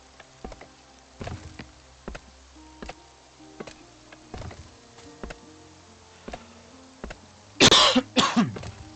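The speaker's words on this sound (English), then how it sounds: "Sorry about the coughing." Soft ticking and tapping sounds repeat, then a couple of sharp coughs break out near the end.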